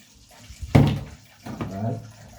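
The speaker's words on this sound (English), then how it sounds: "Put a little water on it." Water poured into a cooking pot of red peas, a splashing pour in two bursts, the first louder and the second softer, with no one talking.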